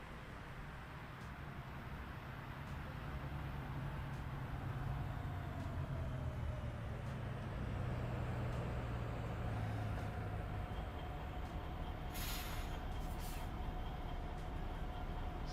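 Modded ambient traffic in American Truck Simulator, cruising through Louisiana: a constant low truck-engine and road rumble with passing vehicles swelling and fading, and a brief higher hiss near the end.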